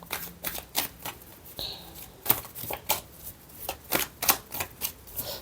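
A deck of tarot cards being shuffled, with a long run of quick papery riffles and flicks in irregular bursts, close and fairly loud, with no talking.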